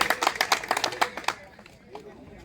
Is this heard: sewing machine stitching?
no